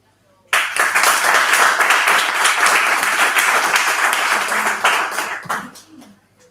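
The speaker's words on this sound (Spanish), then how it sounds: "quiero que deis un fuerte aplauso a Gonzalo y a Medo Pandilla" An audience at a magazine presentation breaks into loud, dense applause that starts abruptly, holds steady for several seconds, then tapers off near the end.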